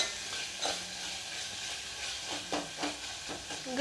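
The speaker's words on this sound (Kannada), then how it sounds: "ಟೊಮೆಟೊ ಇದು ಫ್ರೈ ಆಗೈತಿ" Tomatoes fry in oil for Udupi-style sambar, a soft steady sizzle close by, broken by a few scraping stirs of the spoon.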